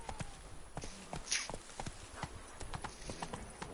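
In the Witcher 3 video game, the horse Roach walks, its hooves clip-clopping in a steady, moderately paced rhythm of distinct close hoof strikes on hard ground.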